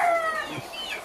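Cuban gamecock rooster calling once with a harsh, drawn-out crow-like cry that fades into softer clucking, fairly close and alone without talk.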